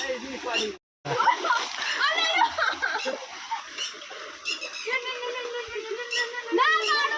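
A child splashes in bath water, with bursts of watery splatter running throughout and lively voices chattering over the splashing.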